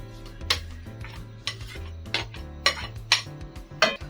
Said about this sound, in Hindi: अब मैं इसके अंदर ये कीमा डाल दूंगी।